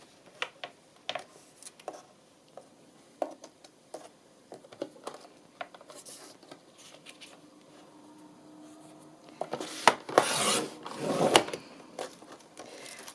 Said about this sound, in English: So I just need to trim the outside of that a bit.